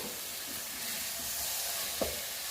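Sprouted green gram (moong) going into a hot pan for a palya, giving a steady, even sizzle and hiss with a small clink near the end.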